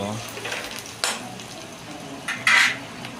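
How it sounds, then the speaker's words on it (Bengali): Onions frying in a pan for a soybean curry: a soft, steady sizzle underneath, broken by a few louder scrapes and metallic clinks of a spatula against the pan, close by, with no speech. "আপনার চলছে পেঁয়াজ ভাজা"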